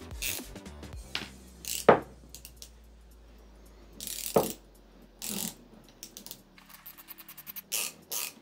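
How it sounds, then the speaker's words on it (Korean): Flexible ratchet handle being worked loose during disassembly, heard as scattered sharp clicks and ratcheting bursts, quiet and close, with no one talking. "라쳇 부분을 고정을 했고 이 부분을 풀어볼게요"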